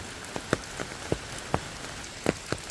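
Light drizzle patters during a trek near Devkund waterfall and a large lake in Bhira village, Maharashtra, with scattered raindrops tapping close by in an irregular rhythm over a soft, steady hiss.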